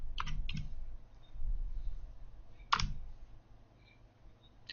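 A few keystrokes on a computer keyboard: short clicks in small bursts with pauses between them, fairly close, with no speech.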